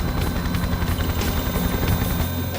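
Police helicopter India 99 circling over South London during a search for two fugitives, a loud, steady rotor thrum and engine roar that fills the air without a break.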